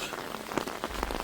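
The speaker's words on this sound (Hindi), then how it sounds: "बारिश बहुत तेज़ हो रही है अब" Heavy rain pours down in a steady, dense patter with scattered individual drops striking a surface close by, the downpour continuing evenly throughout with no one talking.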